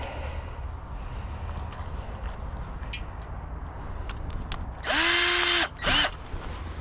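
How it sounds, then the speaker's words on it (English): Quiet background hum, then a power drill whines loudly for about a second drilling aluminum on a trailer, stops, and bursts again briefly. "it's just aluminum. It shouldn't be that hard to drill."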